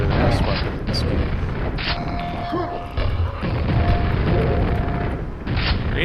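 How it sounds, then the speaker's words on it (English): Grenade launcher explosions in Quake, a series of heavy booms and crashes through a dense, noisy game soundscape, with a voice talking over part of it. "Grenade launcher does feel pretty good"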